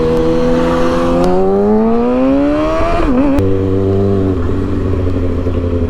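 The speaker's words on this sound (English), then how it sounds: "You gotta do a little wheelie for this kid." A motorcycle engine revs loud and close, its pitch climbing steadily for about three seconds and then dropping to a steadier, lower drone as the wheelie ends.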